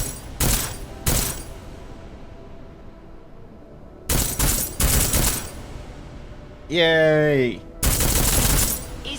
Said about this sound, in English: Let's see what the AP rounds do.